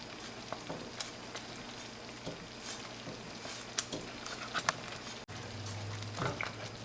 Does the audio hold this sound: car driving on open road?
no